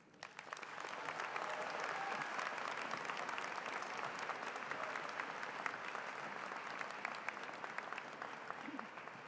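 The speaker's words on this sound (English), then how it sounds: "Please let's give her another round of applause." Audience applause at a university commencement ceremony, a sustained, even roar of many people clapping that swells in quickly and holds steady, heard from a distance in a large hall.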